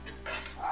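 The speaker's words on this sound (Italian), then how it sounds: "c'è il cane che sente l'odore di pollo" A dog barks in a home kitchen while chicken thighs cook with garlic, a couple of short yelps close by with faint sizzling beneath.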